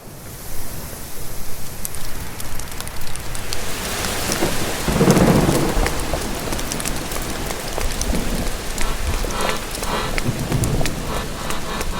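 Thunderstorm with steady heavy rain on surfaces and deep rumbling thunder swelling in the middle, loud and close, with no talk over it.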